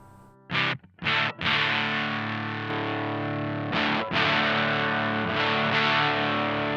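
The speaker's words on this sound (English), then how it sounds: "see how much like an overdrive I can make this for the guitar" Electric guitar played through a Tym Guitars Black Mud overdrive pedal with mids on and tone fully up, giving a loud, sustained distorted tone with a few short strummed stabs at first, then long ringing chords, alone without talk.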